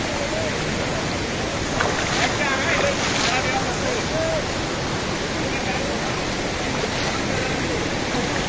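Kalu waterfall in Maharashtra roars as a steady broadband rush of falling water, loud and unbroken, with faint voices of a crowd barely surfacing beneath it.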